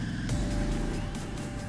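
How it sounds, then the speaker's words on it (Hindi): A car engine roars loudly and steadily in the desert level of the Smashy Road: Wanted 2 video game, with a brief tyre-skid screech partway through. "ये मेरी गाड़ी का आवाज है"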